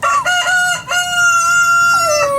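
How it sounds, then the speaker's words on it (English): A chicken crows and clucks loudly and close by, giving a few sharp squawks and then a long, drawn-out crowing call with clear harmonic tones over faint background noise. "Let me get this chicken back in real quick."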